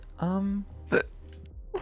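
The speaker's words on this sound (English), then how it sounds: "hiccups." A hiccup bursts out loud and close, a short sharp voiced catch, with another abrupt vocal sound about a second later and a faint onset near the end, in a quiet indoor room during a casual livestream.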